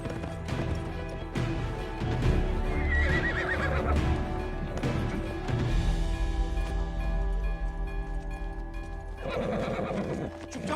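A horse whinnies loudly and repeatedly over steady clip-clopping hooves and a dense, busy action-film soundscape with occasional crashing hits, with no voices.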